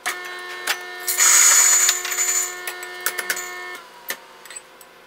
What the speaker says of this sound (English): we're going to start our grinder and we'll grind a shot